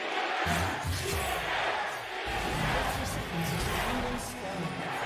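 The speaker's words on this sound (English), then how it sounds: "Crowd seems quite competitive right now." A large crowd at a League of Legends Worlds 2022 quarterfinal esports match between DRX and EDG roars and cheers in a continuous, distant swell beneath close commentator talk.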